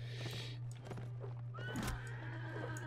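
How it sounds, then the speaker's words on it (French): Horses neighing in the medieval battle game Mount and Blade Warband, a couple of shrill whinnies over faint clip-clopping hooves and a steady low hum, quiet and without speech. "Ils ont des chevaux donc."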